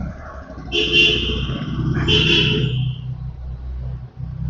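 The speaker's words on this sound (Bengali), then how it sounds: "এবার ভাই এত জোরে জোরে হর্ন মারে এরা" Vehicle horns blaring in street traffic, two long loud honks in a row over the low rumble of engines nearby.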